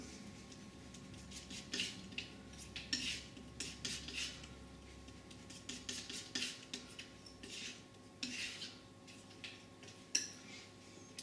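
Palette knife scraping and mixing white and ultramarine blue oil paint into a smooth paste, a soft run of repeated scraping strokes and light taps, fairly quiet and steady with no voices.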